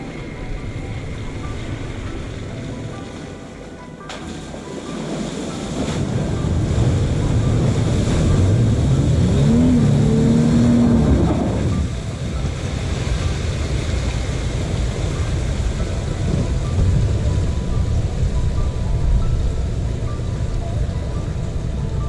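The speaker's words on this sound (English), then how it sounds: "I was getting pretty confident in the truck's ability to handle these mud holes." A truck churns through a deep mud hole on a forest track, a loud, sustained rush of engine and splashing water rising midway and then easing into steady rumbling, wind-like noise.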